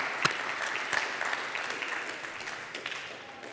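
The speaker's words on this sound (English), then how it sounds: "This is where we clap." An audience claps to welcome a panelist at a media and advertising festival, a brief burst of steady, moderately distant applause that gradually tapers off.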